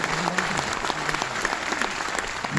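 An audience claps together at a business-building seminar in Bhubaneswar, a dense, even burst of applause with sharp individual claps standing out, moderately loud and continuous.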